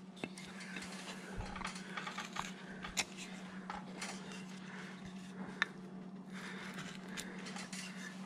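Knife shaving wood while blocking out a carving, with a series of quiet close scrapes and sharp little cuts and clicks spread irregularly over a low hum.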